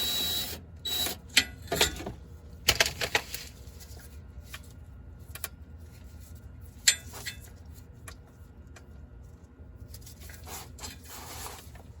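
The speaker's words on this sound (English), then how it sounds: "Keep dropping all these bolts into the pan." Metal bolts dropping one by one into a transmission oil pan under a 2014-2018 Chevrolet Silverado or GMC Sierra, making sharp scattered clinks and rattles at close range, with quieter shuffling between the hits.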